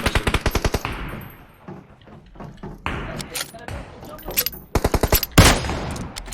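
Rapid bursts of gunfire in the mobile battle-royale game PUBG Mobile, loud and close, with fast rattling volleys at the start and end, separated by scattered single shots and thuds, while a voice talks over parts of it.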